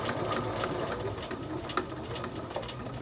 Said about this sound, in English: you're going to stitch around that outside edge